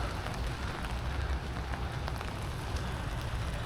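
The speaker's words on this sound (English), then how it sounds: "I'm going to get out of this rain because I'm getting wet" Steady rain patters on surfaces outdoors during a foggy walk in Sa Pa, northwestern Vietnam, a constant dense hiss with no talk.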